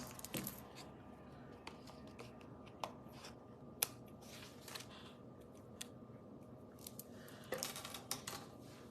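Scissors trim the back of paper for a stamped home-decor card craft, with sparse, faint snips and small clicks spread across a quiet room.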